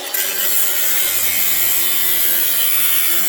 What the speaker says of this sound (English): We'll use a grinder.